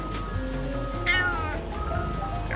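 A cat meows in a cat delivery video game, one clear drawn-out meow over a steady bed of game music and hum, close and fairly loud, with faint chatter around it.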